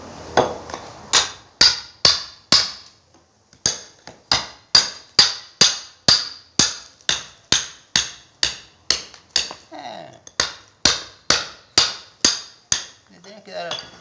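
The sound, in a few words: rotary hammer breaking up concrete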